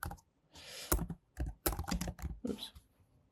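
Quick burst of typing on a computer keyboard, a cluster of close, crisp key clicks in an irregular rhythm lasting a few seconds.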